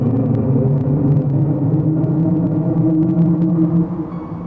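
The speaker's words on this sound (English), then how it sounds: "What you're hearing is likely the emergency siren that went off in the villa when the bombs dropped." A low, droning emergency siren wail in the Sierra Madre villa ambience of a Fallout game, a steady deep rumbling tone with faint higher flickers, continuous and heavy before easing slightly at the end, no talk.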